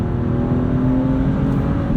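Modified 2016 BMW 435i six-speed manual engine pulling hard while driving, a loud steady drone heard from inside the car and sustained throughout, with no talking.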